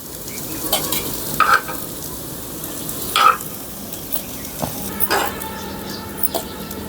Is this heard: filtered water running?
no